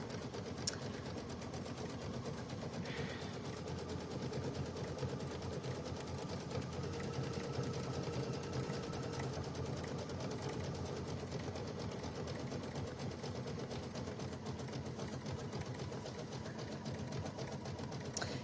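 An embroidery machine stitches out a large stitch with a steady, close mechanical whirr and rapid needle chatter, running continuously without talk.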